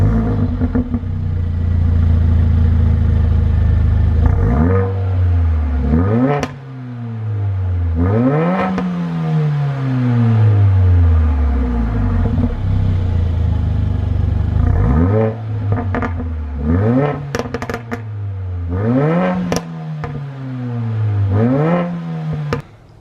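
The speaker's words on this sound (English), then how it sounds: "you can hear it now with the performance exhaust" A Mercedes A45 AMG engine revs repeatedly through a loud Remus performance exhaust, each rise in pitch dropping back to a throaty idle, with several sharp blips near the end.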